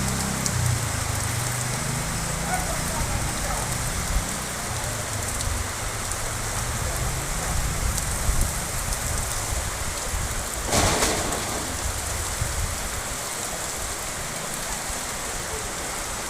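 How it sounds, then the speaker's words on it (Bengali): Heavy rain pours outdoors in a dense, continuous wash of sound during a thunderstorm, with one brief sharp crack near the middle. "দেখো তোমরা, বৃষ্টিটা খুব জোরে এসছে, এদিকে আকাশে বিদ্যুৎ চমকাচ্ছে"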